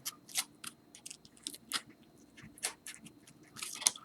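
A study model is cut by hand with a blade in short, sharp, irregular snips and clicks, close and fairly quiet, with no speech.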